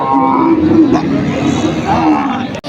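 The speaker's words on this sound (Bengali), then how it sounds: "দুই দাঁতের একটা গাভী গরু মাংসের জন্য বা পালন উপযোগী" A two-tooth dairy cow at a weekly cattle market in Patgram lets out one loud, close, drawn-out moo that lasts most of the moment before stopping abruptly.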